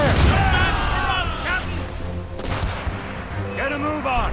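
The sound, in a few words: cannon fire in naval battle, video game Assassin's Creed Rogue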